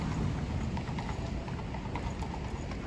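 A horse's hooves clip-clop steadily along a Midtown Manhattan street near Bryant Park at night, a regular rhythmic trot passing by over constant city hum.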